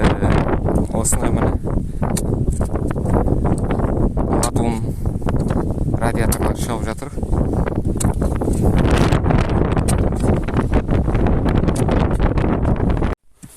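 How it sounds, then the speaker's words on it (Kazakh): Strong outdoor wind buffets the microphone continuously at a field dig for scrap metal, loud rumbling gusts that nearly bury someone speaking over them. "Бізде жел болып кетті."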